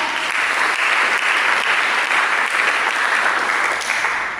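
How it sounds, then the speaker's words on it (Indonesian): A church audience claps together in a dense, steady burst of applause that holds at full strength for several seconds before easing slightly near the end. "Mari kita berikan tepuk tangan."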